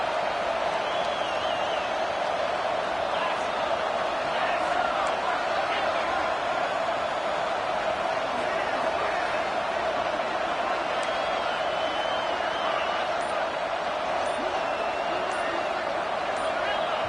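Dense, roaring football stadium crowd noise on a third down holds at a constant loud level throughout, a continuous wall of cheering with an announcer talking over it.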